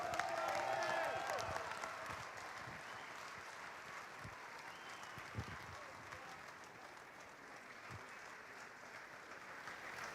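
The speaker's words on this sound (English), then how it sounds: "How about a round of applause for these guys?" Sustained, even applause from a crowd at a hall of honor induction ceremony, steady dense clapping that continues throughout with faint voices and cheers mixed in, moderately distant and soft.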